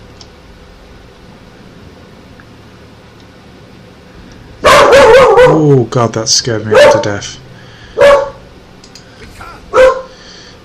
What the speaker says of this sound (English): that dog sometimes will just bark for no reason